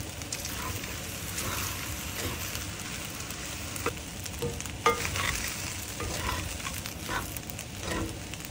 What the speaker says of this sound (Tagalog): Continue to toss the rice until evenly colored and lightly toasted.